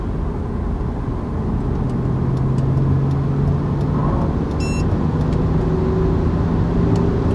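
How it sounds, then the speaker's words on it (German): Audi A4 B7 3.0 TDI diesel with Stage 1 tuning pulling hard from 100 to 200 km/h in automatic drive without downshifting, a loud steady engine drone with rising harmonic tones over heavy road and wind roar. "Jetzt fahren wir noch mal eine 100-200 im D, ohne dass er runterschaltet."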